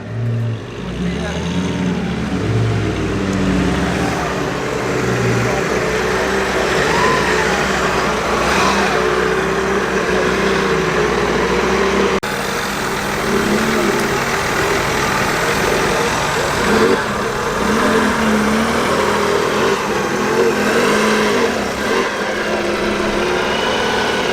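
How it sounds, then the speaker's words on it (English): A supercharged vintage racing car at the Prescott hill climb, its engine droning loud and continuous with a layered whine over a heavy low rumble that swells and fades. "Again, distinctive whine from the supercharger."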